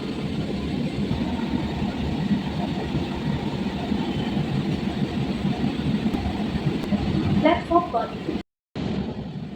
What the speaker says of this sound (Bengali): ট্রেন এখন প্রবেশ করছে ঋত্বিক ঘটক স্টেশনে